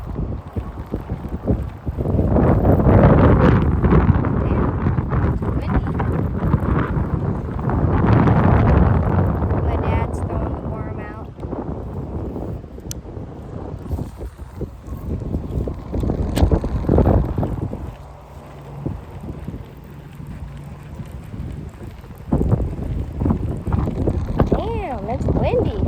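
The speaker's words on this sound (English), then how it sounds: "It's windy." Wind gusting at a fishing pond, a loud, steady rush of buffeting across the whole stretch, swelling and easing in waves.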